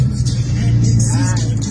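An engine revs loudly up close through a scav muffler opened by an exhaust cut-out, giving a deep, throaty drone with a burst of rising revs and no voices.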